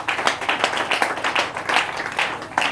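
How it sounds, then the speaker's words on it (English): A church congregation claps together in a steady, rhythmic beat of many hands, fairly close and continuous throughout, with a faint voice underneath. "Clap for Jesus."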